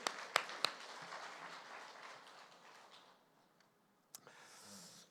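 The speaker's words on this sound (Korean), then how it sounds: "깨달은 사람 박수 내고 그래 할렐루야." A church congregation at Gimpo Yeonggwang Church applauds briefly during a sermon, a few sharp claps up front followed by a faint, thinning patter that fades out, then a lone louder clap near the end.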